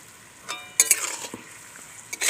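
Stirring in a pan of sugar syrup with ash gourd pieces and crushed cardamom over low heat, with a few soft scraping strokes and light clinks amid a faint sizzle, otherwise quiet.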